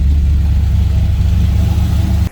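A 1933 Ford Victoria street rod engine, freshly cold-started, revs steadily in a loud, close, continuous low rumble with no voices over it.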